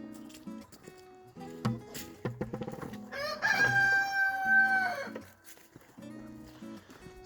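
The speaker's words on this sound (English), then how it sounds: "So let me go check this baby chicken." On a wet farm after rain, chickens cluck in short bursts close by while a rooster lets out one long, loud crow in the middle, followed by more clucking.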